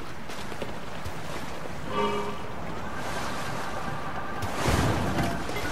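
A small boat gliding over water in Zelda: Tears of the Kingdom, with a steady wash of waves and wind and a louder splashing swell near the end, no voices.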